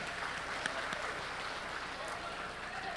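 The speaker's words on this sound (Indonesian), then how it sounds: "Tepuk tangan untuk kita semuanya." A crowd applauds steadily at a moderate distance, a dense wash of clapping sustained throughout.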